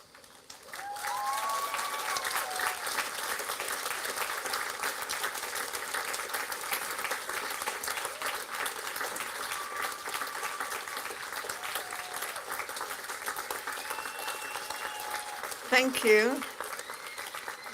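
Graduates at a university ceremony applaud their families and friends, a broad, steady roomful of clapping over a low murmur of voices, with a brief spoken thanks and a louder bump near the end.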